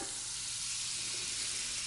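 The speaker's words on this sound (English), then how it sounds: "into the frying pan, I'm going to put 4 tablespoons of butter" A soft, steady sizzle hisses as butter melts in a hot frying pan, quiet and close, with no voices.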